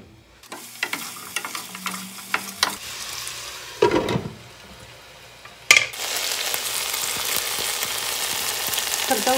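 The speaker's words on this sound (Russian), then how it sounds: "Добавляем чуть-чуть масла и жарим до полуготовности." Oil crackles and sizzles steadily as chicken and onion fry in a pan, with a few scrapes and clatters early on and a louder, denser hiss at the end.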